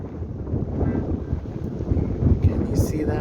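Heavy wind buffets the microphone outdoors on sandy land in Mbour, Senegal, with a steady low rumble and gusty roar. A voice may be partly buried underneath.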